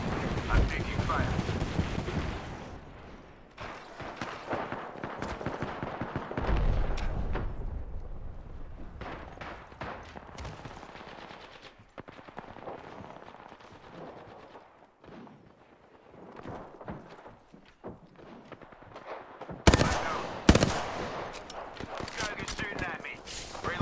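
Gunfire in a video game, bursts and volleys of shots that rise and fall over the stretch with a loud cluster near the end, mixed with game voice lines and talking.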